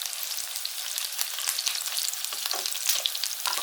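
Prawns frying in a pan for a Marbella-style seafood dish: a steady, dense sizzle with crackling pops and a few brief stirring scrapes, close and continuous with no talking.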